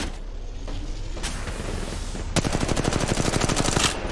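Rapid bursts of automatic gunfire in a video game, a quiet stretch at first, then a sustained rattling volley in the second half, loud and close.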